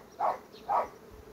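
Honey bees at a beehive, set up for rearing queens, give two short, fairly faint buzzing passes close by, with quiet background between them.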